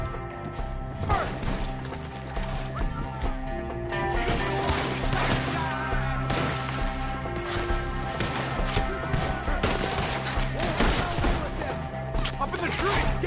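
Gunfire in Red Dead Redemption 2 during a shootout at enemies up in the trees, repeated sharp shots and cracks over a continuous mix of combat sound, with characters shouting throughout.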